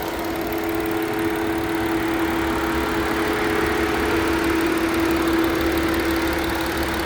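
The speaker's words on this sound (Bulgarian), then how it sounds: "Двигател работи повече от перфектно." A 2013 Audi A6 3.0 diesel idling steadily, a close, even mechanical drone with a faint ticking clatter and a constant hum throughout, no one talking.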